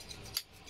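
Two crisp snips of fabric scissors cutting through hair during a home A-line layered bob haircut, evenly spaced about a third of a second apart, close and fairly quiet.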